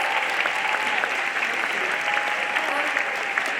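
A convocation audience honoring a professor of the year breaks into sustained, dense applause, a steady wash of many hands clapping with no pauses throughout.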